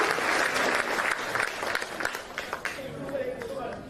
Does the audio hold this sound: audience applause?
yes